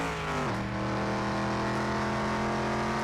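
Ford Bronco engine droning steadily in the Car Mechanic Simulator 2021 video game, a continuous motor tone that drops in pitch once early on, then holds a steady cruise.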